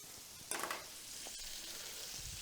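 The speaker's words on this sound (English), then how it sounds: "Oh yeah, this is frying up nicely." Chicken sizzling and frying in a pan with soy sauce, a steady close hiss with a brief louder spatter near the start.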